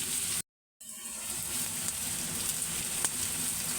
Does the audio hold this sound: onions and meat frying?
yes